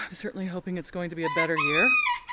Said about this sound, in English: You hear that rooster calling out in the distance?